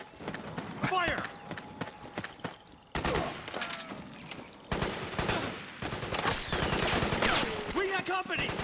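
Dense bursts of gunfire in the video game Metal Gear Solid 4: Guns of the Patriots, with rapid automatic fire and shots mixed under shouted voices throughout.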